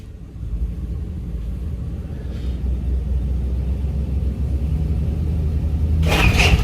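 A car engine rumbles low and steady close by as the vehicle creeps forward in a workshop, trying to roll onto wheel protectors. The note rises slightly, and a brief clatter comes near the end.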